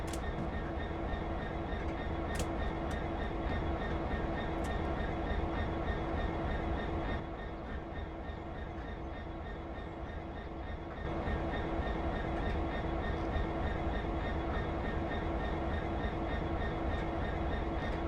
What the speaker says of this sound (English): Now the locomotive is ready to go.